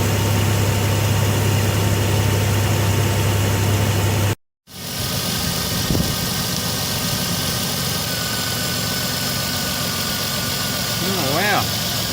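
Diesel engine idles steadily and close with a constant hum, broken by a short dropout, then settles again as the alternator begins charging, with people talking over it.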